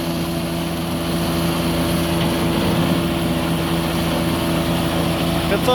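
A tractor engine runs steadily through rye haylage harvesting, giving a continuous droning hum with even tonal layers at a constant level and no break.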